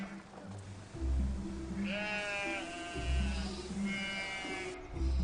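Goats fed on pasture grass bleat in wavering, nasal cries, one after another over a low rumbling background, fairly close and clear, as a herd is led through mountains in a Fujian village.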